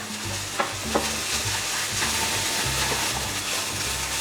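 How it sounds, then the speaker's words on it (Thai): Fried rice with salmon is stir-fried in a pan, giving a close, dense sizzle with regular scraping and tossing of a spatula and a couple of sharper knocks. "ตอนนี้เราก็ผัดให้มันเข้ากันไปเรื่อยๆนะคะ"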